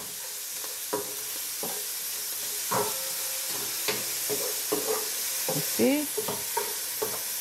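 Onion sizzles steadily in a hot pot while tripe soup is being made, with repeated clinks and scrapes of stirring over a constant frying hiss. A voice briefly answers once.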